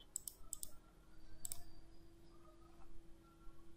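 A computer mouse clicking as a file is imported into STAAD Pro: a few sharp, close clicks, some in quick pairs, with quiet room tone in between and no voices.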